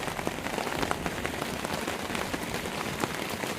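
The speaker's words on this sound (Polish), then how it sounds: "Grad sypie." Hail from a May hailstorm patters densely and continuously on surfaces nearby at a campsite by a pond, a steady hiss of many small impacts with no pauses.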